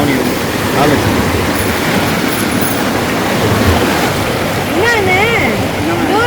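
Water of the Thamirabarani River rushes and flows in a steady, loud wash, with people talking and a voice rising and falling over the continuous roar.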